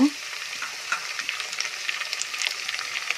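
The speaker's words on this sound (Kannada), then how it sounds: "ಈ ಥರ ಸೌಟಲ್ಲಿ ಚೆನ್ನಾಗಿ ತಿರುಗಿಸ್ಕೋಬೇಕು" Onions with mint, fenugreek and other greens stirred in a hot pan with a ladle for veg biryani: steady frying sizzle with soft scraping strokes, close and alone.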